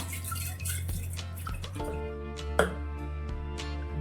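A quarter kilo of chana dal is rinsed in water, with soft splashes, drips and light clinks of the vessel heard close up, and no talking.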